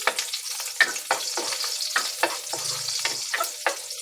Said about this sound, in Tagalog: gisa muna natin yung bawang, sibuyas at sili